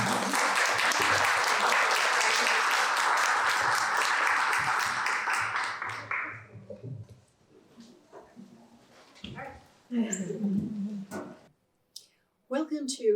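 An audience at a forum in Holy Trinity Lutheran Church gives a round of applause, loud and sustained for several seconds, then fading into quieter room sounds and a voice speaking.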